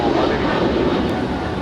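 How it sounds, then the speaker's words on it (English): Steady broadband roar of an All Nippon Airways Boeing 777-300ER departing LAX for Tokyo Narita, loud and continuous jet engine noise throughout, with a voice talking over it. "that is All Nippon Airways 5 off to Tokyo Narita, 777-300ER"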